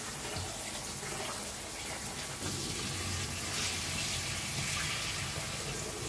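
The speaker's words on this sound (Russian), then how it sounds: "Мне же надо промыть это. Горячей водой." Hot water from a boiler-fed tap runs in a steady, continuous gush close by, with no talk over it for the whole stretch.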